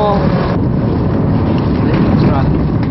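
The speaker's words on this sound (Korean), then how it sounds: "바람이 불어가지고 그렇습니다. 바람이 불고" Wind blowing at sea aboard a fishing boat, a loud, constant rushing roar buffeting the microphone, mixed with low engine and water noise, steady from start to end.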